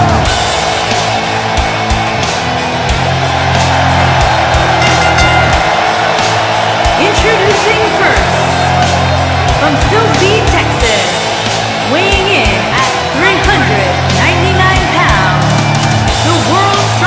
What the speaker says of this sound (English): Listen to this crowd, guy.